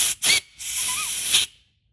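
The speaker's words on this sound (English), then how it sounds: "sometimes you need a little compressed air in the middle hole on this new style" Compressed air blown into the middle hole of an ORI strut rebound assembly, a short sharp hiss, a brief pause, then a longer steady blast that cuts off, close and loud.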